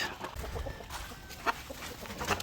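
Game fowl chickens cluck softly in short, scattered calls against a steady outdoor background, with a couple of slightly louder clucks standing out.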